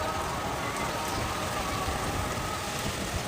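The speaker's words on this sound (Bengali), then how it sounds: "কি বৃষ্টি হচ্ছে আমাদের এখানে, খুব বৃষ্টি হচ্ছে।" Heavy rain pours outside a window in strong wind, a dense, steady hiss of drops with no breaks, loud and close throughout.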